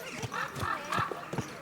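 Hooves clip-clop in a quick, uneven rhythm, close by, with a horse whinnying and voices calling out over the hoofbeats, in Kingdom Come: Deliverance II.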